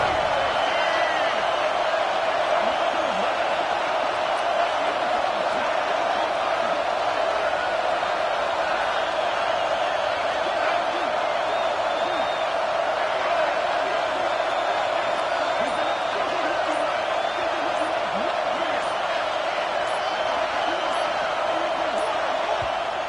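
Stadium crowd noise in a college football video game, a dense, continuous roar from a packed crowd that stays loud and even throughout with no pauses.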